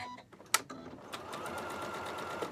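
A Janome sewing machine with a circular sewing attachment stitches fabric for quilting: a click, then a steady, quiet, close whirring hum.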